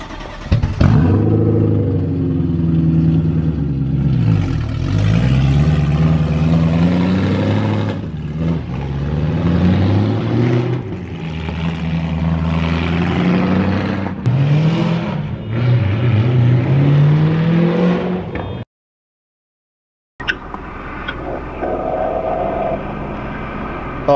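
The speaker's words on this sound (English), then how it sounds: "It is an aftermarket muffler setup, so hopefully it's still loud enough the way you want it." A BMW E90 M3 with secondary catalytic converters removed and an aftermarket muffler revs loudly and repeatedly, its exhaust rising and falling in throaty surges, then cuts briefly before idling again.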